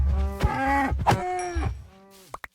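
A Minecraft cow lets out a couple of loud, drawn-out moos, close and clear, followed by a few quick clicks at the very end.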